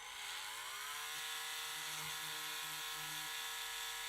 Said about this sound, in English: we're going to go ahead and drill ourselves a hole right through the center of this.